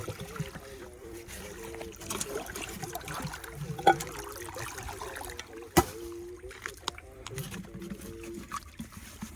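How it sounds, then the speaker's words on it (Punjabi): Canal irrigation water runs into a farm field at night, a soft steady trickle and flow of water kept low and fairly distant, with faint voices and a few sharp knocks over it. "ਨਹਿਰੀ ਪਾਣੀ ਆਪਣੇ ਖੇਤ ਦੇ ਵਿੱਚ ਪੈਣਾ ਸ਼ੁਰੂ ਹੋ ਚੁੱਕਿਆ"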